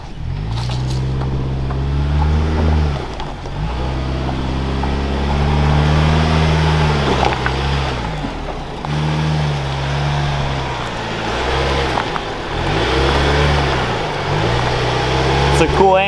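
A Ford Bronco with a 4-cylinder engine climbing off-road, its engine droning loud and steady, rising and falling in pitch with throttle over rough ground, while people talk over it.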